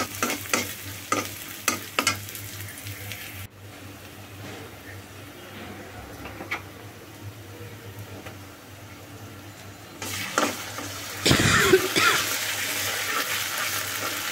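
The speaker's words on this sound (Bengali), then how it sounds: "মুরগি রান্না করার জন্য কড়াই বসিয়ে দিয়ে আমি তেল দিয়ে দিলাম।" Oil sizzles in a kadai as chicken fries, with repeated scraping stir strokes near the start. A steady frying hiss continues underneath, then swells into a louder, busier sizzle toward the end.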